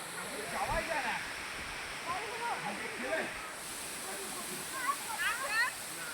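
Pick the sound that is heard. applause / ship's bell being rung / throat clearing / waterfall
waterfall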